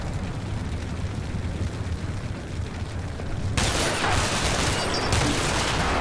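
Grenades go off in the game Combat Mission: Cold War, a dense continuous rumble of explosions and crackling gunfire that grows louder and brighter partway through.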